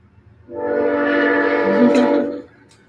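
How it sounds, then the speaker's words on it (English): A passing train sounds one sustained, fairly loud horn blast of about two seconds, with a rich chord of tones that cuts off cleanly into near quiet, no talking over it. "there goes that train"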